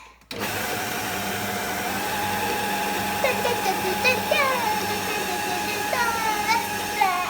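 Electric mixer whirring steadily through cake batter with brown sugar for an apple and Lotus biscuit cake, a close continuous motor drone with small pitch wobbles as the beaters work, a voice chirping briefly over it.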